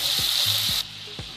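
Carrots and onion sautéing in a pan, a steady loud sizzle with a few soft scraping stirs before the frying quiets somewhat.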